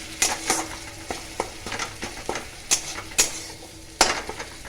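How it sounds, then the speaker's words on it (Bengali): Chopped ginger frying in a pan with a utensil stirring and scraping against the metal, producing a soft sizzle punctuated by sharp irregular clinks and scrapes, close and moderately loud, no voices. "আদা কুচিটা আমি এর পর্যায়ে ভাজবো"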